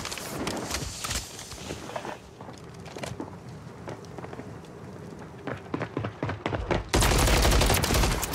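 Dense automatic gunfire from the Warzone video game, with rapid overlapping shots in sustained bursts that swell to a loud, constant volley near the end.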